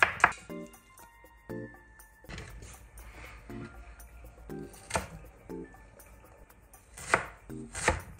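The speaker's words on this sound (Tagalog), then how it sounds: "nagayat lang muna ako ng mga ingredients na gagamitin natin" Knife chopping garlic, tomato, onion and ginger on a cutting board, with several bursts of quick rhythmic chops separated by pauses and a few sharper clinks, close and fairly quiet.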